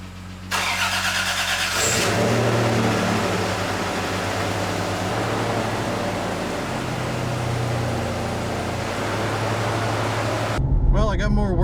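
Toyota 4Runner SUV after servicing: the engine cranks and starts, then idles and runs with a steady mid-pitched hum and rumble before an abrupt change near the end, nearby and fairly loud.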